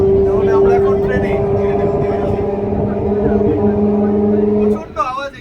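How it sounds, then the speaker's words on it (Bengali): Inside a moving Indian train, a loud, steady roar and low rumble with a constant mechanical drone filling the space, close and continuous, easing off near the end as voices become audible. "তাহলে আমরা এখন ট্রেনে।"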